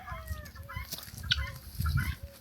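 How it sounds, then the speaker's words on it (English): Several chickens cluck and squawk at moderate distance in Colombia over a low background rumble, with no one speaking. "Oh, some chickens over there too."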